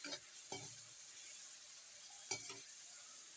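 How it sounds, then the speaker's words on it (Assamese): Tomatoes fry in a pan with a faint, steady sizzle, punctuated by three quick scraping stirs of a spatula. "বিলাহীখিনি তেতিয়ালৈকে মই ভাজি থাকিম"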